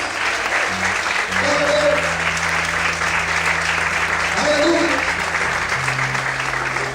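A church congregation applauds steadily and warmly for several seconds, a dense continuous wash of clapping, while a preacher's voice calls out over it.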